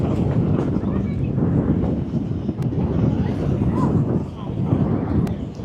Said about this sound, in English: Gosh, it is so windy out here.